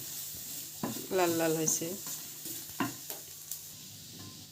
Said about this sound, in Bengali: পেঁয়াজ আর রসুন ভাজা হয়েছে, বেশি ভাজবো না